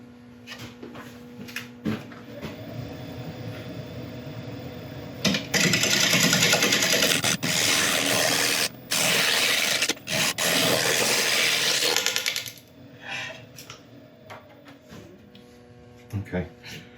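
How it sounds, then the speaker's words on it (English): A scraper bites into a spinning oak burl on a wood lathe, giving a loud harsh rasping hiss in several bursts over the lathe's steady motor hum, with quieter stretches before and after. "I'm going to get a scraper, see if I can sort out these tool marks"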